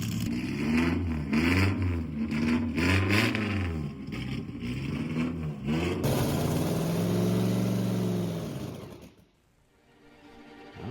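A land speed race car engine revs hard at El Mirage dry lake, a loud, close, rising and falling mechanical roar that holds for several seconds before cutting off abruptly and fading.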